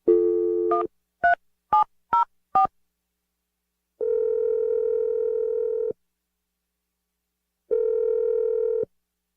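A telephone being dialed: a short steady tone, then five quick separate keypad beeps, followed by two long ringback tones with a gap between them, clear and close with no voices.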